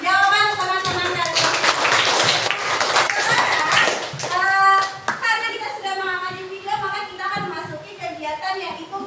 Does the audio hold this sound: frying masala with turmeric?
no